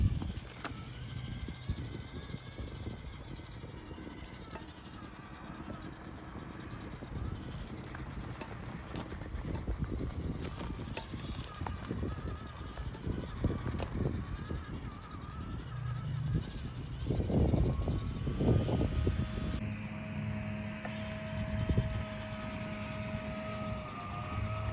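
An Axial UTB18 RC crawler with a Furitek brushless motor drives along a park trail, giving a steady whining motor drone with gravelly crunching that rises and falls as it cruises over rough ground.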